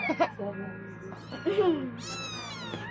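Cat meowing close by, a few drawn-out, rising and falling cries mixed with quieter chirps, while a person talks intermittently in the background.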